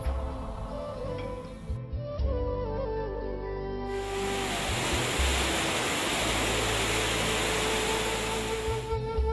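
Water from the Chornai river pours through a waterfall as a continuous loud rushing hiss, close and unbroken, with low rumbling surges underneath.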